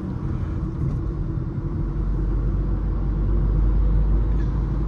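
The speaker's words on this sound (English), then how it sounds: "let's just test out how the car will pull through in a higher gear" Car engine cruising in sixth gear, heard from inside the cabin as a steady low rumble with road noise, rising slightly and holding even, with no talking.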